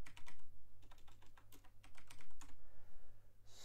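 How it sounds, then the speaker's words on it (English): Quick, light keystrokes on a computer keyboard, a fast irregular patter of clicks at close range, fairly quiet, with no one speaking. "So if you type matcap in Maya."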